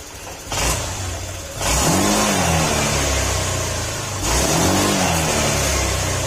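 A Honda Click 125 V3 scooter engine idles, then revs up twice in sustained bursts, loud and close, with no talking.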